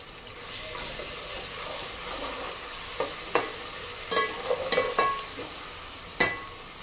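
A spoon stirs chilli paste through biryani masala in a pan, with a soft frying sizzle underneath and several sharp scrapes and knocks against the pan toward the end.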